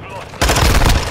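A sudden loud burst of rapid video game gunshots cuts in after a brief quiet moment, then rattles on in close, harsh succession.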